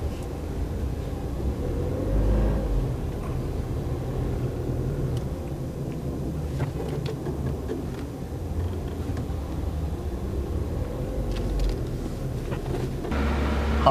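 City street traffic in Lakeview East heard from inside a moving car during a mid-afternoon drive: a steady low rumble of engines and road noise with passing vehicles, and no voices.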